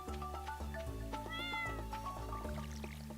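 A cat in the farming game Stardew Valley meows several times in a row, clear and close, with tonal, slightly rising and falling calls and no talk.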